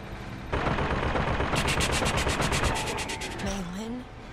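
Enemy machine gunners open fire in the BioShock Infinite video game, a loud burst of rapid automatic shots roaring for about two seconds before it trails off, and a voice follows briefly near the end.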